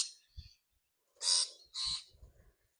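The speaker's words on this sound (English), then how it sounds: "The birds are having an absolute field day." Rosellas call in a tree nearby in two loud, harsh, squawky bursts, with softer chattering notes and faint chirps before and after.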